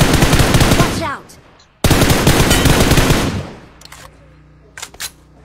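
Automatic gunfire in PUBG Mobile roars in two long, dense bursts, loud and close, followed by a few scattered softer shots and clicks as it tails off.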